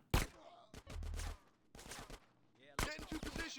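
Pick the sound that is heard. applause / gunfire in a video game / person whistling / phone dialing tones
gunfire in a video game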